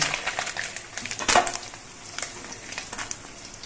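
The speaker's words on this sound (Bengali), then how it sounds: "বাকি মাছগুলো ভেজে নিচ্ছে" Small fresh Ganges mourola fish fry in oil in a kadai, a soft steady sizzle with a few sharp crackles and a brief louder burst of spatter, no voices over it.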